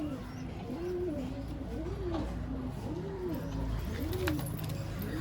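Madrasi pigeons coo in a small loft, a steady series of rolling, rising-and-falling coos repeating roughly every second, close and clear over a constant low background hum.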